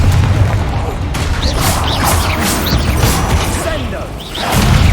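A Confringo fire spell blasting in the video game Hogwarts Legacy, with heavy booming explosions and crashing impacts layered over dense, continuous game action and swishing effects, loud and close.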